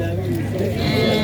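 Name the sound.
lambs bleating at a livestock market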